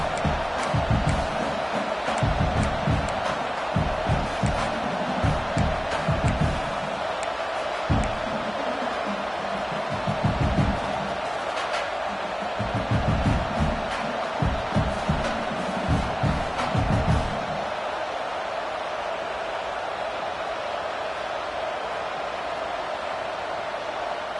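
Stadium crowd at an LSU vs Nebraska football game, a steady roar of noise with surging bursts of cheering and yelling throughout, settling into a constant wash toward the end.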